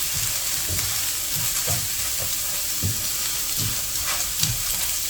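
Onions and garlic frying over low heat in a pan, a steady close sizzle and hiss running throughout with soft periodic stirring scrapes, no voices.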